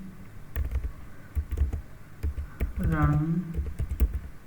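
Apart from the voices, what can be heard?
typing on a computer keyboard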